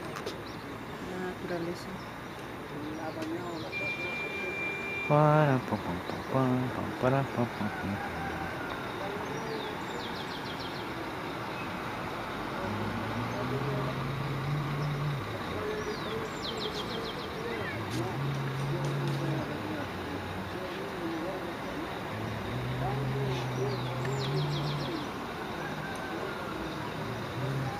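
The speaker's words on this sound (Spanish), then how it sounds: "Se escucha el canto de los pájaros" Doves coo in slow repeated phrases outdoors in the countryside near Yungay, soft and somewhat distant, with a few brighter chirps early on and a person talking intermittently over a quiet open-air background.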